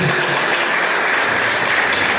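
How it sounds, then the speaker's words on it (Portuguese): A church congregation applauding loudly and continuously, dense, even clapping filling the room from start to finish with no talking on top. "aplauda a Jesus bem forte"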